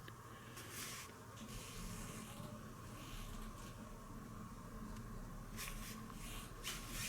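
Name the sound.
spraying paint wash on a model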